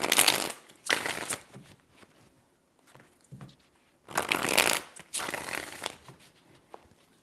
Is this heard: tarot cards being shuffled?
yes